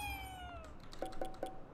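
A cat in Ghostwire: Tokyo gives a few short meows, one gliding downward and then three quick repeated calls, fairly close over a quiet background.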